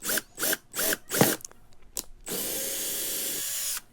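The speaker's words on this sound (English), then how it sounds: "I was so worried the drill was going to get caught up." A power drill gives several short whirring bursts, then a few quieter clicks, followed by a longer steady whine as it bores through homemade paper.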